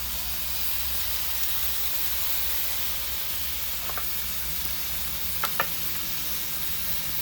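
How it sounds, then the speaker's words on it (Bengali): Ginger, cumin and dried chili pastes sizzle in hot oil in a Bengali magur and shol fish curry, a steady soft hiss running throughout with a couple of brief clinks near the end. "এখন দিয়ে দিব আদা বাটা, জিরে বাটা আর শুকনো লঙ্কা বাটা"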